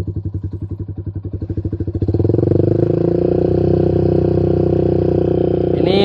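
Motorcycle with a loud aftermarket WRX K2 exhaust idling in a lumpy, pulsing rhythm, then revving up to a sustained roar, very close.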